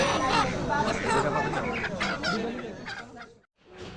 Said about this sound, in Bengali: দেখুন এই যে এদিকেও কিন্তু দেশি মোরগ মুরগি রয়েছে অনেক।